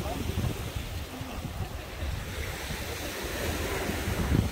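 Ocean waves washing against a shore where people fish, a steady rushing surf with wind buffeting the microphone and someone speaking over it.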